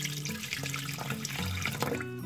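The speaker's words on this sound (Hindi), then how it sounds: "थोड़ा आप इसके अंदर पानी शामिल कीजिए।" Water pours steadily into an aloe vera juice mixture in a home kitchen, a continuous splashing trickle close by with no talk.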